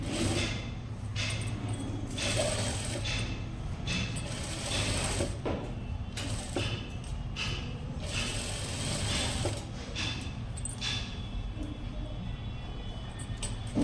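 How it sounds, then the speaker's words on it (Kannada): A sewing machine stitches a blouse sleeve with a steady mechanical whir and rapid ratcheting clicks, running continuously at moderate loudness. "ಇನ್ನೊಂದು ಸ್ಟಿಚ್ ಹಾಕ್ಬಿಡೋಣ ಸ್ಲೀವ್ಗೆ ಯಾವಾಗಲೂ ಎರಡು ಸ್ಟಿಚ್ ಇರಬೇಕು"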